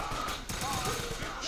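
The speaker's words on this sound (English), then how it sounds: "Just gonna gun you all down." Rapid gunfire in the shooter game Wolfenstein: a dense, continuous burst of shots over steady game noise, loud and close for about a second and a half.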